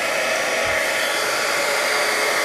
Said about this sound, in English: you want to turn on your heat tool for a few seconds and let it warm up before you aim it at your image